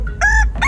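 A rooster crows twice in quick succession, each call loud, close and clear against a quiet background.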